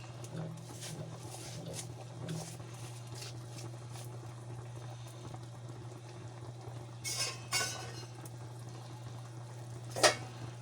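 Moringa leaves and pechay boiling in a pot of water, a faint steady bubbling simmer with a low hum, a few soft clinks and stirring sounds, and no clear talk.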